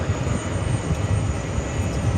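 A Boeing 777-300ER airliner at JFK airport gives a continuous, rumbling engine roar, close and steady across a short stretch.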